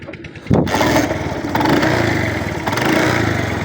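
A motorcycle engine cranks and catches with a sudden burst, then idles roughly and gets a few light revs that rise and settle, close by, with no talking.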